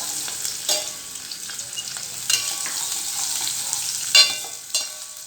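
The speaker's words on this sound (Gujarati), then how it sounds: "આ ડુંગળી સરસ તતળી ગઈ છે" Chopped onion sautés in hot oil with cumin and spices in a pan, giving a steady bright sizzle broken by a few louder crackles and stirring scrapes, close and alone without talk.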